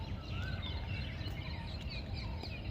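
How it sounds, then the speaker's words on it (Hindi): Several small birds chirp in the morning near a walking path, scattered faint calls coming from a distance over a low background rumble, with no one talking. "हाँ, कुछ पंछी चहचहा रहे हैं। पंछियों के कलरव सुनिए।"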